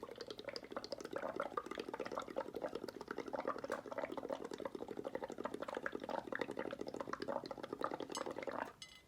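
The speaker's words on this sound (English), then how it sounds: "So now I'm going to keep blowing so that the bubbles start to overflow the cup like a little mini volcano onto my plate." Air blown through pottery glaze in a cup makes a dense, continuous bubbling and gurgling as the froth overflows onto a plate, close and fairly soft, ending abruptly.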